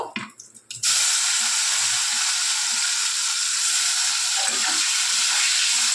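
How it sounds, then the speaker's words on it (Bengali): Potatoes drop into hot oil after a brief quiet moment and then sizzle loudly and steadily, a dense, close hiss with faint scraping underneath, in a kitchen cooking rohu fish curry with lentil bori. "এবার আমরা আলুগুলো ভেজে নেব।"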